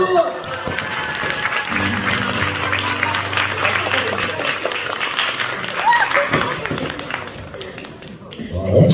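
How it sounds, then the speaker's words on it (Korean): Audience applause at a theatre curtain call during a musical's unplugged event in Daejeon, a steady wash of clapping filling the room for most of the stretch, swelling again near the end. "한번 박수"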